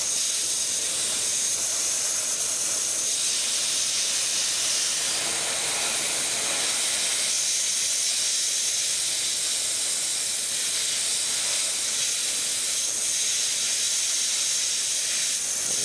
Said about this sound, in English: Nice amount of steam coming off.